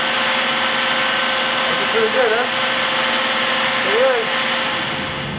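Power polishing of hardened metal, a loud, steady motor whine running the whole time close up, with slight rises in pitch where the tool meets the workpiece.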